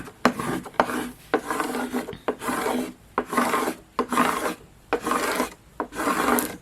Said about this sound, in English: now I'm going to take my scraper tool.